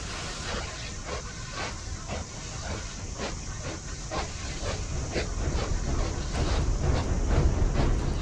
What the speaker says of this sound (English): Just a random train station in the middle of the toy factory.